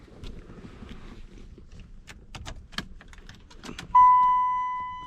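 Car keys jangle and clink in short bursts close by as they go into the ignition of a 1994 Chevrolet Caprice, followed by a steady electronic chime tone.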